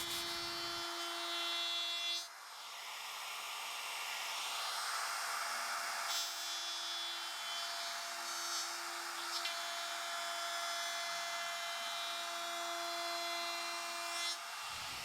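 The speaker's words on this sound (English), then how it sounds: "the edges get chamfered with the router." A high-pitched router whines steadily as it chamfers walnut wood edges, its tone shifting as it cuts, with a brief pause partway through and a sharp stop near the end.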